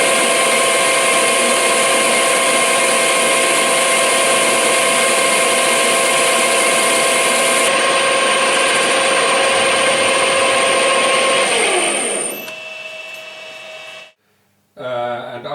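A lathe turning the diameter of a metal part gives a steady mechanical whine and hum, with a thin cutting hiss, winding down and stopping near the end.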